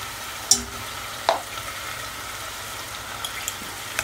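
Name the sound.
fish frying lightly in a pan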